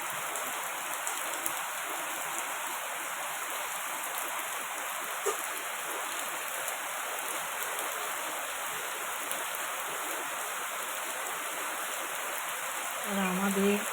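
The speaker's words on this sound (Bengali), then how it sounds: "দেখো কেমন বৃষ্টি হচ্ছে এখানে।" Heavy rain falls in a continuous, even wash of hiss that stays steady and fairly loud throughout, with a faint low murmur of a voice near the very end.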